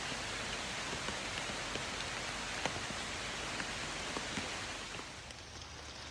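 Steady rain falls in the woods, a soft continuous hiss of drops on leaves and ground with a few slightly louder individual drips scattered through, fairly quiet and without voices.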